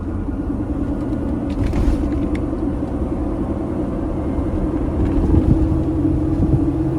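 Inside a Mercedes car driving on the road, a steady low rumble of road and engine noise runs unbroken, fairly loud and even throughout, with no voices.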